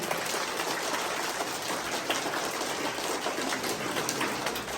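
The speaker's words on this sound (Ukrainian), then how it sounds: "Давайте плескаємо гарно." Dense, steady applause from a crowd at a scouting welcome ceremony for second-graders, many hands clapping together without pause for several seconds.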